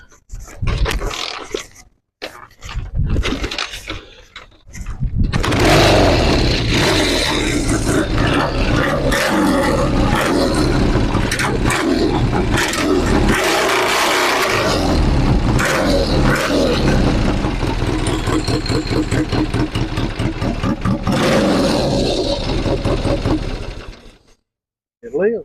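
Triumph motorcycle kick-started and then idling, a few short kick bursts followed by a loud, steady engine rumble up close that runs for about twenty seconds before cutting off.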